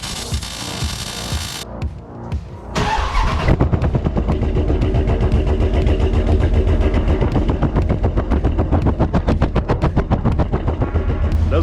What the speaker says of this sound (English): We still got an exhaust leak